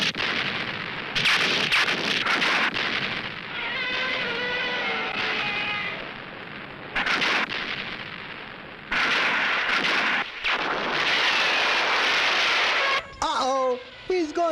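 Military guns and artillery open fire on the giant turtle monster Gammera in a monster film, with heavy booming bursts and sustained barrages broken by short gaps, mixed with shouting voices and dramatic tonal sounds.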